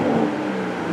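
A Toyota Supra Mark V engine gives a brief, loud rev, a steady growling whir over about a second with no speech.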